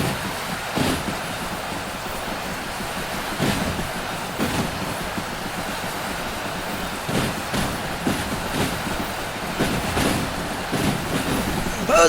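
A train in the video game Derail Valley rolls and rumbles steadily, with rhythmic clattering thumps from the wheels and a continuous loud roar throughout.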